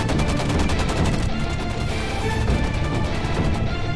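Rapid, loud bursts of gunfire crackle continuously, dense and chaotic like a firefight, with regular sharp reports filling the whole stretch.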